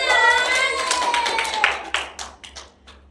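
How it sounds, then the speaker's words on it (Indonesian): A voice is heard first, then students in a classroom break into a short patter of hand claps that trails off quickly during a primary-school science lesson. "Kan diberi tepuk tangan. Tepuk tangan."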